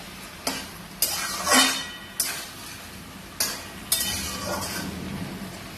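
Malabar spinach being stirred with a hilsa fish head in a pan, the cooked-down greens giving soft scraping strokes and a few sharp metallic clinks of the spoon, close and clear with no voices.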